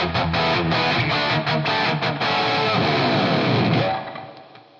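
An electric guitar runs through a TONEX Brown Sound capture, giving heavily distorted, chunky rhythm playing with small bits of delay and reverb. Choppy chords give way to a sustained bend that rings out and fades near the end.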